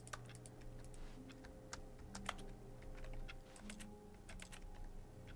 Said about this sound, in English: Does everything I push make a clicking sound?